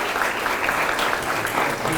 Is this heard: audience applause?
yes